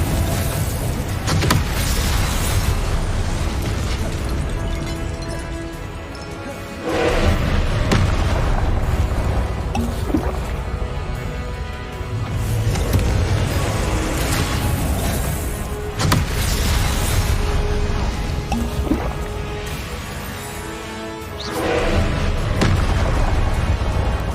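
Confringo fire spell blasts in Hogwarts Legacy on PS5, a dense run of loud booming explosions, several heavy bursts spread across a busy, rumbling battle din.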